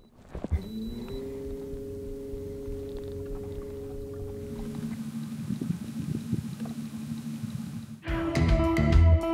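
A boat's electric trolling motor at setting 2.5 gives a low steady hum with a faint whine through most of the clip, with water swishing beneath and a louder burst of noise at the end.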